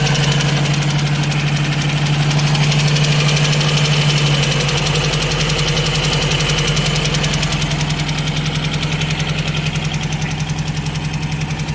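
Ford Escort MK3 GLE engine idling with a persistent rapid mechanical ticking riding over a steady hum, loud and close throughout with no voices.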